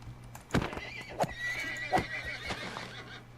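A baby horse in a modded Minecraft game neighs and whinnies several times, with soft hoof clip-clops spaced between the calls over a steady low background hum.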